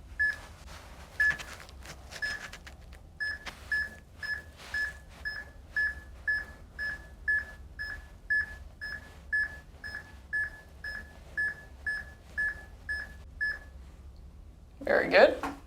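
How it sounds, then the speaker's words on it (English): A concussion test device gives a long run of evenly spaced short electronic beeps, about two per second, soft and clean, then a brief burst of a voice at the end. "3 beeps, then we go."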